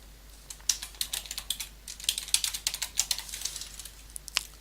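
Typing on a computer keyboard: a quiet, steady run of irregular key clicks close by, with no talking.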